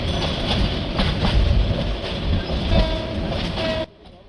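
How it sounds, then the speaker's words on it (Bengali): A passenger train on a rainy night journey rolls out of the station with a steady rumble and faint wheel clatter, fairly close and continuous, before cutting off abruptly near the end. "আমাদের ট্রেনটা ঠিক সময়ে স্টেশন থেকে ছেড়ে যায়"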